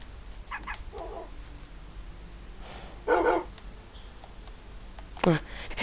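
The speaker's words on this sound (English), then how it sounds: "I've got too many dogs now." Dogs barking in Minecraft, a few short yaps and whimpers scattered under ongoing talk, with one louder bark burst in the middle and another near the end.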